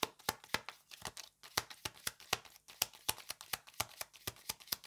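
Tarot cards are shuffled and snapped down in quick, crisp bursts, a steady run of sharp flicks with brief pauses, close up and with no talking.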